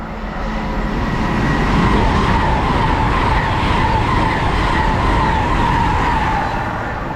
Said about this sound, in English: Okay, passing now, we've got Great Western Railway service to Worcester Foregate Street.